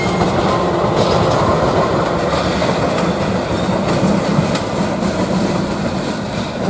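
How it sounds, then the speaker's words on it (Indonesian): Indonesian diesel locomotive CC 206, unit 1313, rolls in at a station to take the Argo Bromo Anggrek express, giving a loud steady rumble of engine and wheels with faint rail clatter and no talking. "sudah datang lokomotif CC 206 1313 Sibotoko yang akan menarik kereta api Argo Bromo Anggrek"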